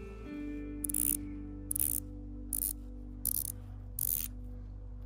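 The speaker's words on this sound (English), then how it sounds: "We have a 120 clicks bidirectional bezel" The 120-click bidirectional bezel on a Parnis GMT watch is turned in short bursts of rapid fine ratcheting clicks, about five quiet, close-up spurts separated by pauses over a low steady background hum.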